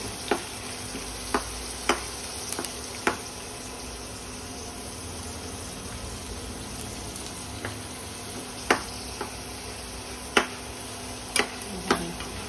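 Sundakkai chutney ingredients with urad dal sautéing in a pan, a continuous soft sizzle with occasional sharp pops and crackles scattered across it, steady and close with no talking.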